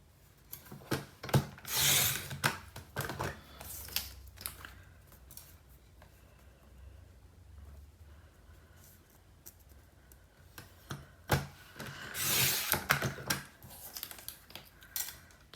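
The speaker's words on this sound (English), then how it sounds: "from your hot fudge cardstock, you need to cut 4 strips at 1/2 inch wide" Scissors snip through hot fudge cardstock, cutting it into half-inch strips: crisp rasping cuts in two loud clusters near the start and again near the end, with a quieter lull of faint handling and paper rustle between them.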